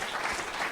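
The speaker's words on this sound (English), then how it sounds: "could you give a huge round of applause for this young lady over here in the corner?" Audience applause at a community event, a dense, steady wash of many hands clapping together, close and loud, with no voices over it.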